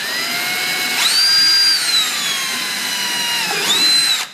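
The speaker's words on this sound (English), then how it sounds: "just drill through with a 1/4 inch drill bit" A power drill with a 1/4 inch bit whines loudly in two bursts, the motor pitch rising as it spins up and sagging under load before cutting off.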